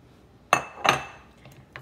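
Shrimp salad being tossed in a glass bowl, giving two sharp glassy clinks close together, then a few fainter taps in an otherwise quiet kitchen.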